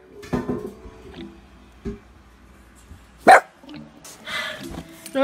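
A few sharp dog barks at grass ring out at irregular intervals, fairly close, with some quieter household noises in between.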